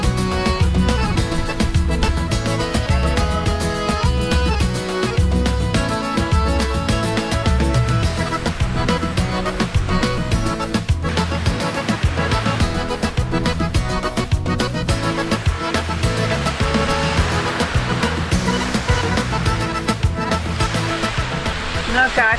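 Sea water rushes and churns loudly right around a swimmer off a steep Caribbean shore in Saint Vincent and the Grenadines, a continuous roar with no breaks.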